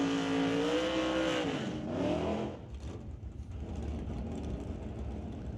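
Drag race cars, a Camaro and a Roadrunner, at an NHRA race: a loud rising engine howl that climbs in pitch, then drops away into a rougher, fainter roar.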